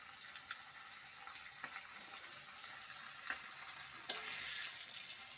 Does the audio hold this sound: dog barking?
no